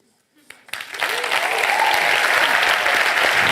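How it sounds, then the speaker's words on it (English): An auditorium audience at a tech summit breaks into applause after a near-silent start, swelling quickly into loud sustained clapping from a large crowd. "You can stand up and applaud if you want."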